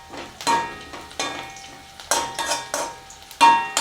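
Cinnamon and cloves are sautéed in a pan, with repeated loud scraping stirs in an uneven rhythm over a faint sizzle, close and without talk.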